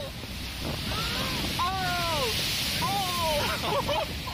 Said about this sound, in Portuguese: A tempestade os pegou de surpresa.